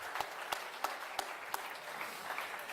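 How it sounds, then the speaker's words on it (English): Sparse applause from an audience at a youth development strategy launch in KwaZulu-Natal, honouring the Premier: a few distinct, sharp claps spaced out over a faint wash, heard at a distance and fairly quiet. "Can we please have one more round of applause for our Honorable Premier Tsamsanqa Ntuli"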